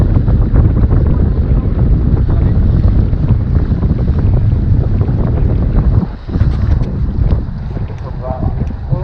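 A fishing boat motor drones steadily under heavy wind buffeting on open water at night, loud and continuous with a brief dip near the end.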